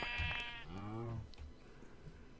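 A sheep in the Minecraft video game gives two quick bleats, the second a wavering drawn-out cry, close and clear, followed by faint game noise.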